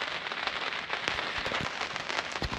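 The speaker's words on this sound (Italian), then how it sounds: "A volte anche in barca piove." Light rain pattering steadily on a sailboat moored off Sardinia, a continuous soft hiss with scattered crisp drops striking the deck and canvas close by, no voices.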